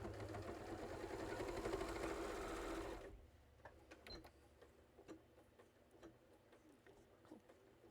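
A sewing machine stitches dense quilting in a rapid, steady whir for about three seconds and then stops, leaving faint scattered clicks and small handling noises.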